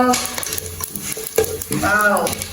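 Cinnamon and cardamom stirred and sautéing in a hot pan, a steady sizzle with a spoon scraping and clinking against the metal, up close and without speech.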